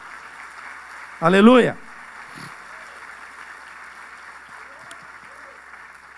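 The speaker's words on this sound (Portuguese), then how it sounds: "dá uma salva de palmas bem forte ao Senhor" A church congregation applauds in a broad, steady wash of clapping that continues throughout, while one voice briefly shouts out over it near the start.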